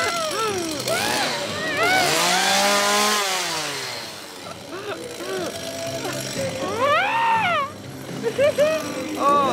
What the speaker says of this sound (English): Oh, it's a chainsaw.